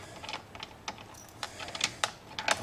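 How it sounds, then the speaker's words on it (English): Bolt being backed off a BMW F32 steering wheel, heard as a run of sharp, irregular clicks, close and fairly quiet, with no talking. "So now I'll back this bolt the rest of the way off."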